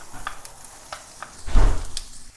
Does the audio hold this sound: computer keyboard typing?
no